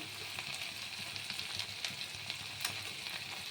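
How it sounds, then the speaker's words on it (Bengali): Chopped onions frying in a pan with salt and turmeric for a pointed gourd and prawn curry, giving a steady close hiss and crackle with faint scattered pops and no voices. "এবার আমি এর মধ্যে একটু নুন দেব, যাতে পেঁয়াজটা ভালো করে ভাজা হয়, নরম হয়ে যায়"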